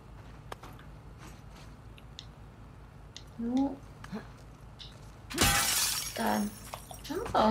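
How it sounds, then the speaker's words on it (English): A sharp, loud burst of breaking glass shatters close up in the video game The Last of Us Part II, following quieter clicks, footsteps and a brief voice. "I like smashing things."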